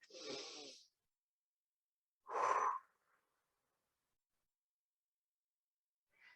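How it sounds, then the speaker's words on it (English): Deep, slow breaths during an energy medicine yoga session, a long inhale through the nose followed after a pause by a louder exhale through the mouth, close and alone in a quiet room. "breathe with me in the nose and out the mouth"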